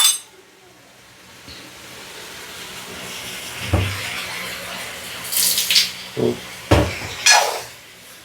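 Water running from a tap into a water bottle, a steady trickle and gurgle under light clinks and knocks, with a faint voice at times.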